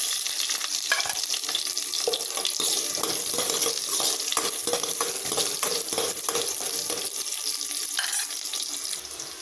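Eight small chopped onions drop into hot oil with popped fenugreek, cumin and mustard seeds for a Tamil dry fish curry, giving a steady loud sizzle and crackle with stirring throughout.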